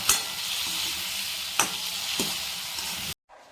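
Onion and tomato sizzle loudly in hot oil with a constant hiss, broken by a few sharp stirring scrapes, before the sound cuts off abruptly near the end.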